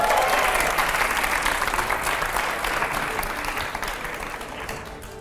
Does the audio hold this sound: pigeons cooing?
no